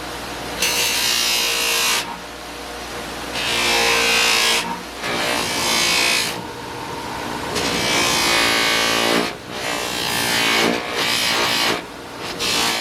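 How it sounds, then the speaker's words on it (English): Hard buffing wheel loaded with rouge compound polishing brass on a woodworking chisel, a loud close whirring grind rising in repeated bursts as the metal is pressed to the wheel and eased off, with no talk. "I have a rouge, a little polishing compound on this kind of hard wheel here. Let's give the brass a scrub."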